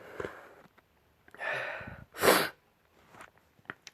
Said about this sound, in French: si vous m'entendez renifler